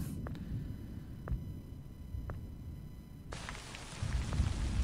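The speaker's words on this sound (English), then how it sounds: "Oh, it's raining." Rain falls steadily in the horror video game Tsugu No Hi, a broad continuous hiss that thickens and grows louder partway through, with a few faint brief ticks earlier on and no voices.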